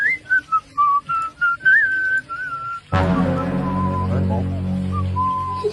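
A clear melodic whistle plays a short tune of separate notes, then a louder, denser passage of music and voices takes over.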